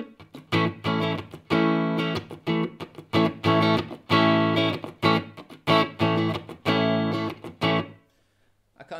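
Electric guitar barre chords strummed with raking and palm muting, alternating short choked chugs with ringing, slightly distorted chords in a steady rhythmic pattern, loud and close, ending in a brief silence.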